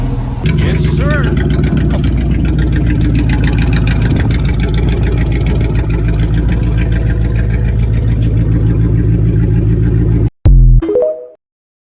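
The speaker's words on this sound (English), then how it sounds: "muffler delete. Before and after." A Chrysler 300C with its muffler deleted idles loudly and steadily with a deep, rumbling exhaust note for about ten seconds, then cuts off abruptly.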